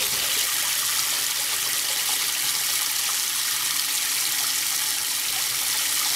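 Water gushes steadily from a tap, a constant bright hiss with no pauses, close by.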